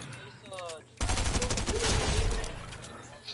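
Gunfire in Fortnite Battle Royale, a loud burst of rapid shots that breaks in suddenly and rattles on for over two seconds after a quieter lead-in.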